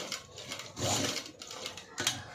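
A sewing machine stitches around a blouse neckline in short bursts, a quiet, rapid mechanical whirr that starts, pauses and restarts close by.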